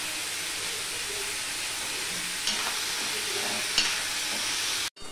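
Potato and onion pieces fry with salt and turmeric for a Chittagong-style dried Bombay duck curry, giving a steady, even sizzle with a couple of soft stirring knocks before the sound cuts out abruptly near the end.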